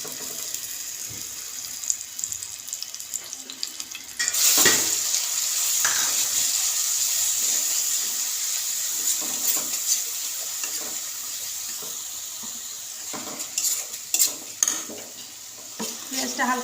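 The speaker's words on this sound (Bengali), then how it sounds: "তেলটা ভালো হয়ে গরম হয়ে এলে এর মধ্যে দিয়ে দেবো আদা রসুন পেঁয়াজ বাটা" Ginger, garlic and onion paste frying in hot oil in a kadai: a steady sizzle joins the scene partway through and keeps going, with occasional stirring scrapes and clatters over it.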